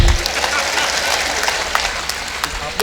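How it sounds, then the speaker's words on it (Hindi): Loud applause from a crowd at a national poetry recital (kavi sammelan), dense and continuous clapping with a few sharper claps standing out and some crowd noise mixed in. "ताली बजाइए।"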